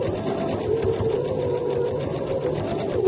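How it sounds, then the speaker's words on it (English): A sewing machine stitches along the edge of fabric for a homemade face mask with filter, running as a steady, continuous mechanical whir at close range for the whole stretch. "Using a 1 centimetre seam allowance, stitch along the edge of the fabric"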